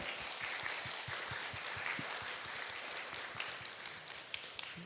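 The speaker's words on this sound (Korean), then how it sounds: "박수 한번 보내주시죠" An audience claps at a trauma-healing event held in Korea. The applause is fairly quiet and sounds distant, with rhythmic clapping that holds steady throughout.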